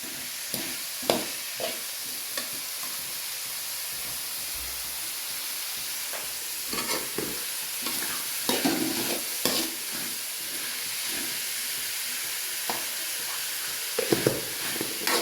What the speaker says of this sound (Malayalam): നമുക്കതൊന്ന് നന്നായി വഴറ്റിയെടുക്കാം